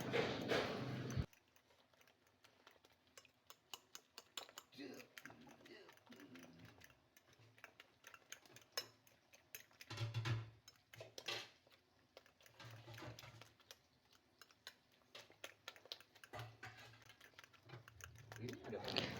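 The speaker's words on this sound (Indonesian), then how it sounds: "tinggal diaduk-aduk, dikocok-kocok-kocok sampai berbusa" Rapid clattering of a whisk beating eggs in a bowl, steadily in quick bursts until frothy, with occasional voices and kitchen noise around it.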